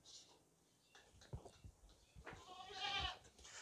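A healthy desi goat bleats faintly, with a short harmonic cry near the end against quiet rustling and handling noises, no talk.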